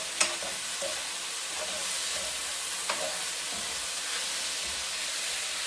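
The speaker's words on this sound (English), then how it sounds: "So now, I'm going to go ahead, turn it, stir fry." Potato, bell pepper and tomato stir frying in a pan, a constant dense sizzle with a couple of sharp clicks from the utensil, close and even, no talking.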